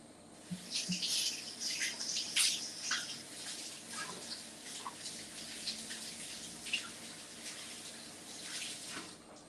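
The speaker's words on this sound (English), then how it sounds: "I'm just going to wash my hands a little bit." Hands being washed under a running kitchen tap, the water splashing and gushing unevenly as the hands move through the stream, close and moderately loud with no talk.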